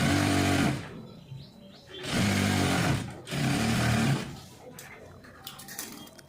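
Sewing machine top-stitching the lining cloth of a blouse sleeve: three close bursts of fast mechanical stitching separated by short pauses, with a faint voice and small handling noises in the gaps.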